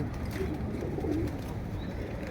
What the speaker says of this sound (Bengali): এই যে আজকে আমাদের নর্মাদি সব কবুতরই ছাড়া হয়েছে, বাচ্চা সহ সকল কবুতরই ছাড়ছে।